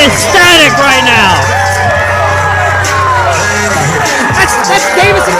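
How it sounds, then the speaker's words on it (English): A live wrestling crowd erupts for a main event entrance, loud yells, whoops and shrill cheers layered over a roaring babble of voices throughout. "And the crowd is ecstatic right now."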